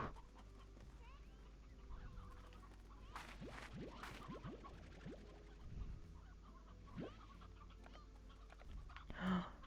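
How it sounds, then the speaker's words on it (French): Chickens in the video game Slime Rancher cluck in short scattered bursts over a low steady game backdrop, with a few chirpy calls rising toward the end. "Des petits poules, des petits poussins."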